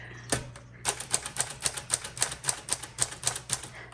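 Keystrokes on a 1946 Sterling Speedline manual typewriter clack one after another in a steady, fairly even rhythm of about a dozen sharp strikes, close and alone, with a single isolated hit before the run begins.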